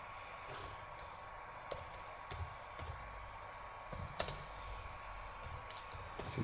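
Typing on a computer keyboard while entering text in Photoshop, a few faint scattered key clicks over a steady background hum with no talk.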